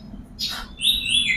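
An oriental magpie-robin (kacer) gives a few close, bright chirps, a short rasping note followed by a high sweeping whistle.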